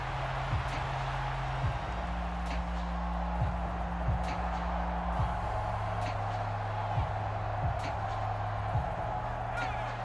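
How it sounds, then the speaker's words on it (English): Stadium crowd roar in a Madden football game between the Raiders and Ravens, a dense steady wash of noise with occasional whoops, heard continuously beneath a low hum. "This crowd turning up the decibel level."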